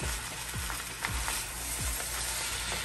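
Seafood fried rice with crab, crawfish and shrimp sizzling in an oiled pan, a steady close frying hiss broken by a few soft scraping strokes as the rice is folded over.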